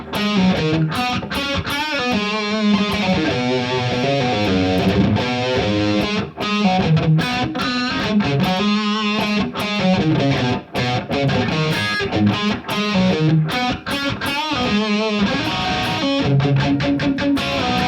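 Distorted electric guitar plays a riff slowly and steadily, loud and close. Choppy palm-muted chugs with short pauses run throughout, and no voice is heard.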